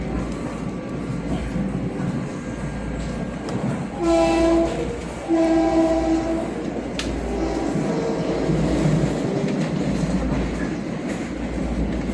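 A Long Island Rail Road train rumbles steadily nearby, its horn sounding two sustained blasts midway through over the continuous rolling noise of the cars.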